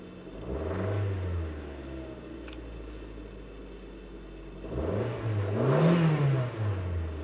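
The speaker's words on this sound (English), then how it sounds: "Right now, it just sounds like this." A 2003 Mazda Protege ES fitted with a Mazda Speed exhaust tip, heard close up as its engine hums and rises through two revs, easing back between them to a steady idle.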